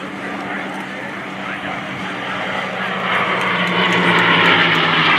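P-51 Mustang warbirds roar past on a photo pass at an air show, a loud, steady propeller-engine drone that swells as they come closer.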